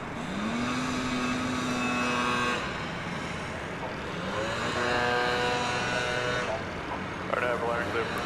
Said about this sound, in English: So another A300. This one's coming in from Shreveport, Louisiana.